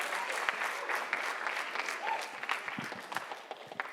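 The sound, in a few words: audience applause for superintendent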